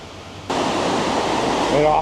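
Water crashes down through a narrow Alpine gorge, with a sudden jump to a loud, broadband roar of falling water that continues steadily, and a voice speaking faintly under it near the end.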